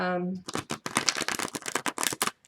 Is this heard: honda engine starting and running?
no